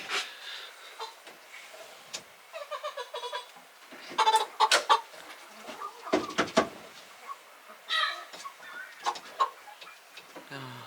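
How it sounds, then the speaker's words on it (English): Backyard homestead chickens let out scattered bursts of squawking and clucking, loud and close in places, with quieter gaps and some rustling between outbursts. "You can hear squawking when he gets another one."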